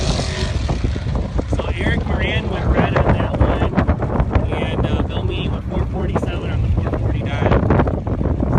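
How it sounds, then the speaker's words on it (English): Steady gusty wind buffets the microphone at an outdoor drag racing event, a constant broadband roar that fills the whole stretch with no letup, while someone talks over it. "Yeah, it's definitely windy here, guys."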